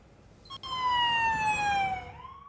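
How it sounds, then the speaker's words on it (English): A siren wails once, its tone sliding downward and then starting to rise again, over faint background noise. "For some, the sound of an ambulance is just part of city life."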